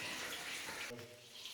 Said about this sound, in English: A bit of a drippy pit.